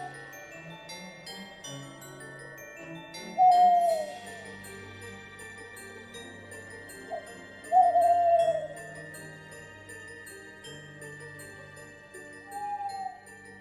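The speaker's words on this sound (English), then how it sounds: "It's an owl." An owl hooting in the snowy winter video game Frosty Nights, three separate drawn-out calls spaced several seconds apart over soft, sustained background music.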